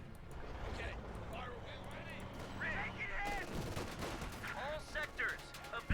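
Machine gun fire and other gunfire bursts in the World War II strategy game Company of Heroes 2, a team firing at a rifle squad in a base, dense and continuous under a commentator's talk.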